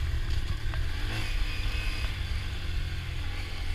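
A Honda Grom small motorcycle rides along a dirt trail, its engine buzzing and droning at a moderate distance, with steady low rumble and light clattering throughout and no talking.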